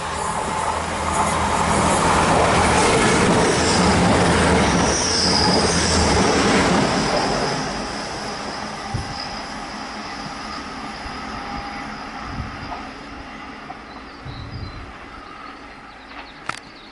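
An East Midlands Railway class 180 diesel unit, 180.113, passes on the Midland Main Line at Attenborough, loud rumbling and squealing wheels at first, then fading into a quieter roll with faint clicks as it moves away.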